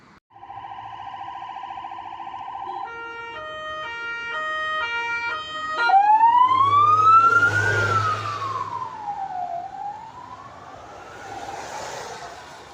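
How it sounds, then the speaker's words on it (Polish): Emergency sirens pass by on a rainy city street in Poland, first a loud two-tone ambulance horn pattern, then a rising and falling wail that swells as the vehicle nears and fades as it moves away. "Cały czas jak nie karetki jeżdżą, to policja czy Straż Miejska."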